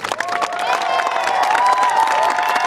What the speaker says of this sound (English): So a nice round of applause for Zach Lovering.